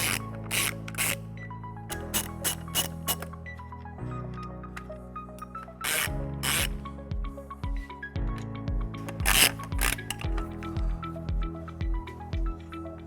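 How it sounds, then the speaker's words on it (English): A 15mm socket turns nuts off beneath the bumper of a 2020 Tesla Model S during a hitch install, giving close, intermittent clicking and rattling bursts with short metallic clanks and pauses, no talk. "we're gonna use a 15mm socket to remove these nuts."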